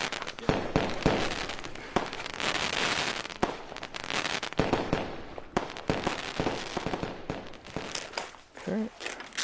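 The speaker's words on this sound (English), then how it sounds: "Some fireworks going off in the background." Fireworks bang and crackle repeatedly in the background, a steady run of sharp bursts with someone talking over them.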